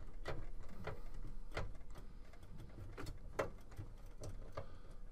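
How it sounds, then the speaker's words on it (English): A screwdriver backing out the screws that hold a hard drive in a desktop computer, heard as faint, irregular clicks and small metallic ticks close by against a quiet background. "I'll take that corresponding screwdriver with the correct bit, and we'll remove these screws that are holding it on"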